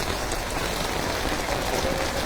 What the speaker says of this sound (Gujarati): જે રીતે મન મૂકીને વરસાદ વરસી રહ્યો છે